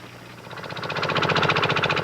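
Small prototype tractor engine running close by, a steady rapid chugging pulse that builds louder over about two seconds, with no talk over it.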